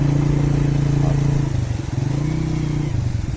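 A motorcycle idling and revving beside the fast-flowing, flooded Sutlej river, its engine chugging close by with a rough, steady throb that dips and picks up again.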